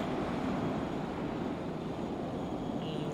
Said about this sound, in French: Regardez les vagues où elles arrivent.